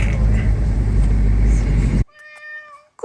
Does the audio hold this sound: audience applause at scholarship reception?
no